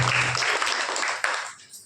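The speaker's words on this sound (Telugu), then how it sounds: "చప్పట్లు కొట్టండి" A congregation claps their hands together during a Palm Sunday church worship service, a brief burst of dense applause that fades out within a couple of seconds.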